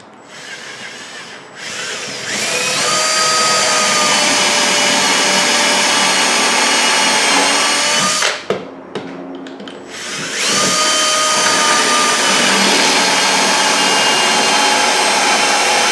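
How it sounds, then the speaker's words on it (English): A drill running on high speed with a Harbor Freight pocket hole jig whines loudly and steadily, cutting out briefly midway before spinning back up and continuing to the end. "I think I'm going to put this drill on high speed and see if that makes a difference."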